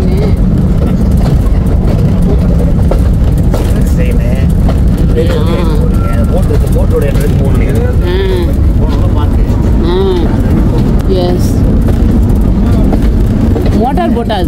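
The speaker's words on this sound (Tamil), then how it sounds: "அங்கே பாருங்க மோட்டார் போட்டு நல்லா ஸ்பீடாக போகுது பாரு" A motorboat speeds across the water on a boating outing in Hyderabad, its engine droning steadily and loudly while people talk nearby over the noise.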